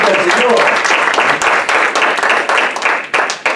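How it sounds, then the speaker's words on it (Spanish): A church congregation applauds loudly during a sermon, a close, vigorous burst of clapping with sharp individual hand claps standing out over the sustained roar. "Dale el aplauso fuerte al Señor"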